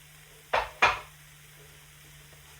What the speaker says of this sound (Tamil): இதை போட்டு சூடாக்க சும்மா அப்படியே கிண்டி விட்டிங்கன்னா சரி.